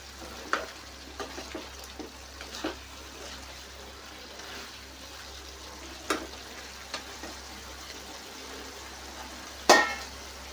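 Brinjal pieces frying in a pan for brinjal karam curry, a soft continuous sizzle with scattered scrapes and clinks of a spoon stirring, quiet and close, with one louder clatter near the end.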